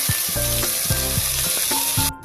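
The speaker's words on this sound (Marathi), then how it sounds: "आपण तेलात परतून घेऊया। एक 5 मिनिटं परतून घेऊया आपण हे।" Carrots, cauliflower, green chilies, tomato and cabbage sizzle loudly in hot oil while being sautéed for pulao, a steady close crackle broken by regular scraping strokes of the stirring spoon.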